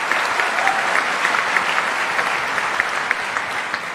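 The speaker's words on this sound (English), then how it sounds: "All these claps are for you." An audience claps steadily at a live conversation event. The applause is dense and loud, holds at an even level for several seconds, and no voices are heard over it.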